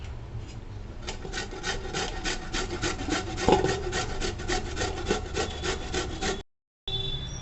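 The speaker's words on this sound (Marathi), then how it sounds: "आता आपण जाड किसनेने किसून घेऊ अशी जाड किसणे घ्यायची" Peeled beetroot rubbed over a coarse grater, a close rhythmic rasping in quick, evenly repeated strokes, continuous until a brief silent gap near the end.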